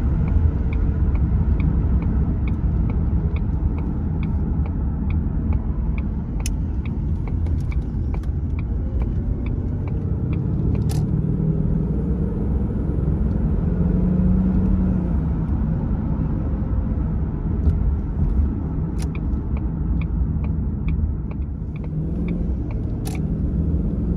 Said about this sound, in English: Doing approximately 50 miles per hour.